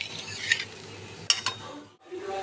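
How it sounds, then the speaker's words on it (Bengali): Spices fried with water stirred in a pot for a boal fish curry, a few scraping strokes and metallic clinks of a spoon against the pot over a faint bubbling background, followed by a short pause. "ভালোভাবে মশলাগুলোর সঙ্গে মিশিয়ে নিচ্ছি।"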